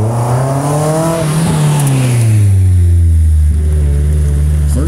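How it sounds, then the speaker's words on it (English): An autocross race car of the SCCA CSP class drones loudly nearby as it creeps up to the starting grid, its engine pitch dipping then holding steady, with a brief squeak near the end. "I hear the first car is starting to come up to the starting grid here."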